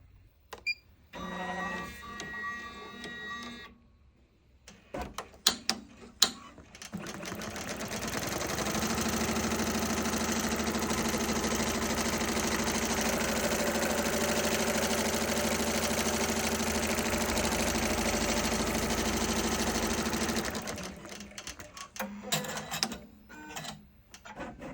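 A Smartstitch embroidery machine stitches a design in a hoop frame, starting with a few clicks and then running as a steady, fast mechanical whir for about fifteen seconds before stopping with clacks.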